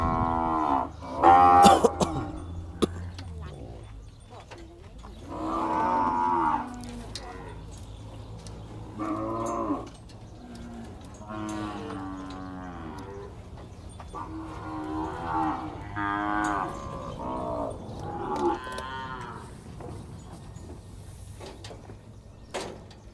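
Cattle mooing at a livestock market in Wang Prachop, Tak, Thailand, several loud drawn-out moos repeating across the scene over a low background hum, with people talking nearby.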